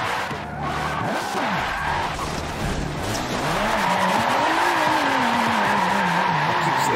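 A car drifting and skidding in the Forza racing game, loud continuous engine roar with wavering revs and long tire squeals as it slides, steady and close throughout.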